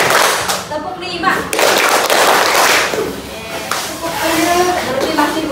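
A class of schoolchildren claps together in a short series of sharp, close hand claps mixed with children's voices and chatter.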